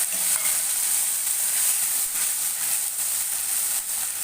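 Vegetables and spice paste for Bengali shukto sautéing in a pan over a medium flame, a steady close sizzle and hiss with faint stirring scrapes and no talk.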